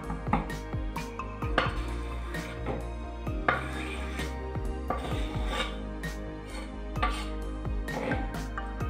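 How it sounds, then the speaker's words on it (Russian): Steady, rapid knife chopping of chicken meat on a board, with sharp repeated impacts over a dense rasping kitchen background. "нарезанное мясо нужно порубить ножом"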